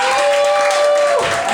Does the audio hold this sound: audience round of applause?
yes